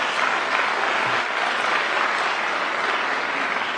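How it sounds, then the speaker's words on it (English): An audience at a business forum in Singapore applauds steadily in a large hall, a dense and even round of clapping with no voices heard. "A nice round of applause for them would be great."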